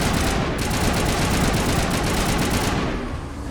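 Avenger assault rifle from Mass Effect 1 firing in long, unbroken automatic bursts, loud and close, a dense rattle that fades slightly at the end with no talking.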